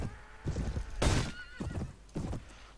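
A horse in the Mount and Blade medieval battle game lets out a sharp, high whinny amid rapid clip-clop hoofbeats and battle thuds, brief and fairly close.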